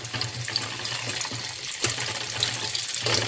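Urad dal fries in hot oil for lemon rice, giving a close, steady crackling sizzle with a few light clinks of a utensil and no talking.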